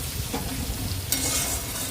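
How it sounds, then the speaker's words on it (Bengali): Onions frying in a pan with garam masala for a chicken dish, with steady stirring scrapes over a close crackling sizzle that brightens into a louder hiss near the end. "তো তার জন্য এখন গরম মশলা দিয়ে পেঁয়াজ দিয়ে ভাজা হচ্ছে"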